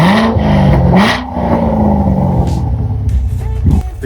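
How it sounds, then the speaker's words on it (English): A Corvette Stingray 3LT's 6.2-liter engine revs in sport mode with the exhaust valves open, a deep, aggressive rumble rising in sharp surges and falling back, close and loud. "The car sounds really good with the exhaust valves open"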